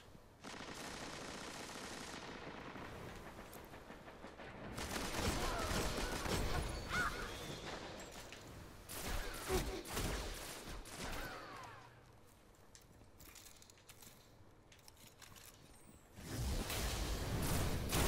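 Golden Gun super fired in the Destiny video game during an Iron Banner match, a few heavy blasts and bursts of gunfire with whooshes between quieter stretches, with a player talking at times.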